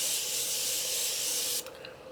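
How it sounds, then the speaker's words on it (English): Setting spray is misted from a pump bottle in one long, steady, close hiss that stops abruptly, followed by a brief quieter rustle. "So I'm going to spray this setting spray real fast."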